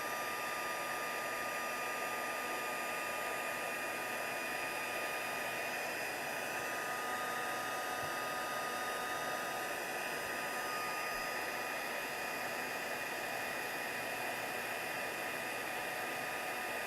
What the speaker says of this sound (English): I'm going to bring my heat tool over here. And I'm going to heat this up.